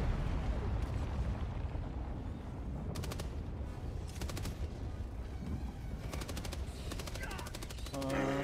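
Rapid bursts of automatic gunfire and heavy blasts crackle through a Helldivers video-game battle, repeated rattling volleys over a rumbling background, with players talking over the action.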